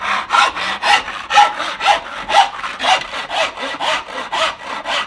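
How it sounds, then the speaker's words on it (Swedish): A back saw cuts through a piece of wood laid flat, with steady, rhythmic push-and-pull strokes, about ten even rasping passes, close and clear with no talking. "när du sågar så är det lätt att se linjen och lätt att såga."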